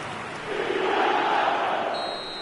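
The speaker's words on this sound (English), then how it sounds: "Now the crowd are demanding that they just finish this off." A stadium crowd in the eFootball video game swells into a loud, broad roar that builds and holds steadily, heard up close without speech.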